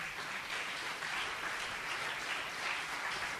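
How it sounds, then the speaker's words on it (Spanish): A church congregation applauds during a sermon, a steady, even wash of many hands clapping at once, fairly faint and distant, with no voices standing out. "Dar un aplauso al Todopoderoso"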